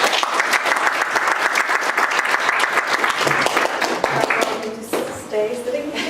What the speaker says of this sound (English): Well, round of applause for our panel.